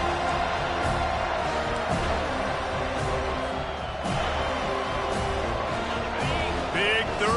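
A college football stadium crowd in an Alabama versus Florida State game roars steadily behind the defense on a third down, a dense continuous cheer with a commentator talking over it.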